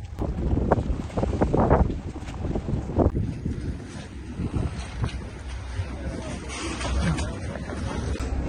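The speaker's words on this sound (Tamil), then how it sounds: "போட் ஸ்டார்ட் ஆகும்." A Statue of Liberty ferry getting under way, heard as a low engine rumble mixed with gusty wind buffeting the microphone and fluctuating outdoor noise, with crowd voices faintly in the background.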